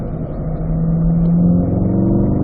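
A Corvette C8 Stingray's engine pulls steadily on a racetrack, a loud, sustained drone that rises slightly in pitch and volume through the middle, with no talking over it.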